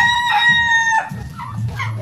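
Chickens on a flood-muddied Philippine farm, with turkeys nearby: a rooster crows loudly and close for about a second, then hens cluck and chatter in the background.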